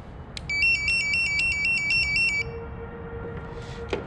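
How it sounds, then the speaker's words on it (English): A rapid electronic beeping pattern sounds for about two seconds, loud and close, followed by a faint tone and a soft click. "got an alarm beep there"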